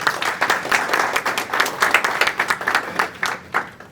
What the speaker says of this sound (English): please give a big round of applause for Harinder Singh ji